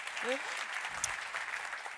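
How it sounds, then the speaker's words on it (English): An audience at the 2025 USTA Annual Meeting and Conference claps briefly for Megan Rose, a soft, diffuse patter of applause with a voice heard briefly over it. "round of applause for Megan"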